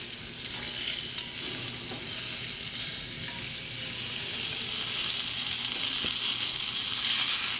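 Onions and peppers sizzle steadily over direct flame on an offset smoker's grill, a dense continuous frying hiss with occasional crackles and a faint stir, close and alone without talk.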